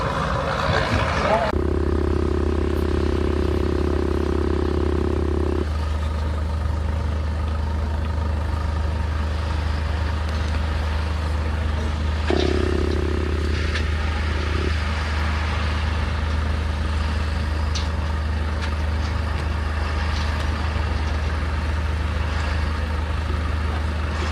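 Armoured military vehicle engines idle and run at a military show in the UK, a steady deep rumble with a constant low drone. A mid-pitched engine tone shifts part way through, and public-address talk sits over the top.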